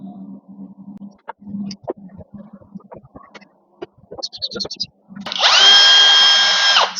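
A CNC machine cuts with a loud, steady high-pitched whine that rises for about two seconds at the end, after a stretch of quiet knocks and light handling noises.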